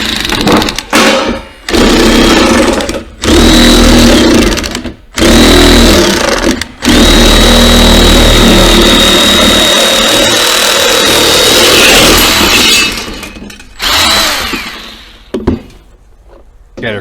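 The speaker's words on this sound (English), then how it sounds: "here we got a piece of stainless tray cover. It is harder to cut." A Milwaukee shear cuts through a stainless steel cable tray cover, a loud close grinding buzz in several bursts of a few seconds each, split by brief pauses, with no talking.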